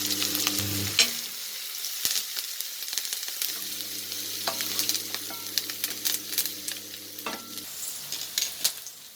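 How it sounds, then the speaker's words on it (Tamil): Onion and green chillies with mustard seeds and curry leaves frying for a moringa flower stew: a loud, close sizzle with a sustained hum from the stove and sharp intermittent crackles and spatters, no talking. "கருவேப்பிலை கடுகு பொரிஞ்சதும் வெங்காயம் பச்சை மிளகாய் சேர்த்துக்கலாம்"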